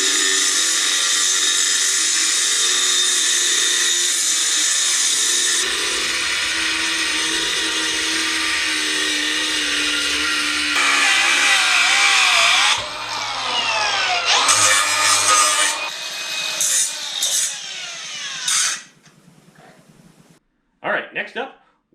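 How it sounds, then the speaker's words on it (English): A power tool grinds metal loudly and steadily, throwing sparks, with the harsh whine shifting pitch and cutting off in bursts near the end. "I guess it's time to grind some stuff."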